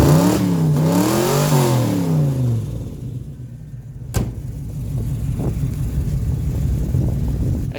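A black hatchback with a patched-up, leaky exhaust revs hard, engine pitch sweeping up and down loudly before settling into a rough, rumbling idle, with a sharp knock midway.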